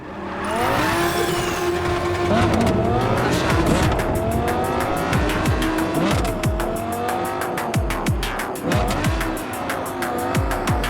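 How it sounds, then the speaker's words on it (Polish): A car driven in Cyberpunk 2077 revs and accelerates loudly, its engine pitch rising and falling with gear changes, while tires squeal and skid through turns and rapid rhythmic ticking runs alongside. "weźmy sobie nasz samochód i podjedźmy"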